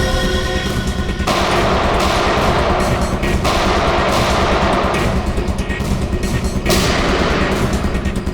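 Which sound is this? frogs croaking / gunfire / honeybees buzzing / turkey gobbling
gunfire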